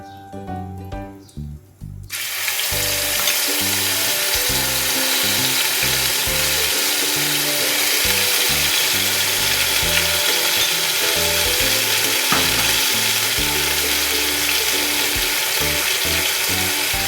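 Panch phoron spice paste hits hot oil for a Bengali puti fish curry, bursting into a loud, steady sizzle after a couple of seconds of quieter kitchen clatter, then frying continuously with faint scraping underneath.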